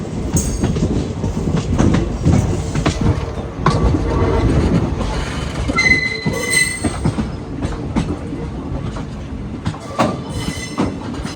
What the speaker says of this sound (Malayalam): കൃത്യം 1:30 നമ്മുടെ തിരുവനന്തപുരം അമൃത എക്സ്പ്രസ് അങ്ങനെ രാമേശ്വരത്ത് നിന്നും